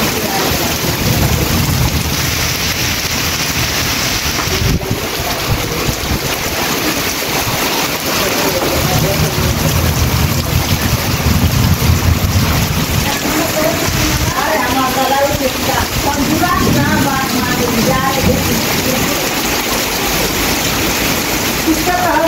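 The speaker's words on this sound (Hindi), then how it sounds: "तूफानी बारिश का ये आलम है।" A heavy, steady thunderstorm downpour roars loudly and continuously throughout, with broadband rain noise and low rumbling beneath, no voices.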